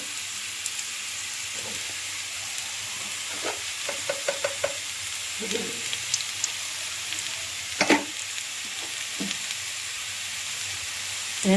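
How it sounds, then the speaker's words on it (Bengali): Cauliflower, potato and onion fry in oil in a pan with a steady, close sizzle, broken by clusters of sharp scraping taps as a spatula stirs them. "এবার একসঙ্গে ভালো করে লাল লাল করে ভেজে নেব"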